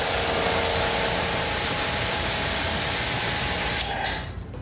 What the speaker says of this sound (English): use your pressure washer or your hose